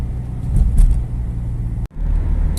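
Volkswagen Polo 6N on a road test drive, a steady low interior engine and road rumble throughout, with a brief sharp dropout near the end before the drone resumes.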